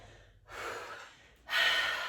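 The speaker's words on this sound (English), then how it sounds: "and we look forward and take a deep breath." Two deep, breathy inhalations taken while seated in yoga hero's pose, close and soft, separated by a brief quiet pause, the second stronger and longer.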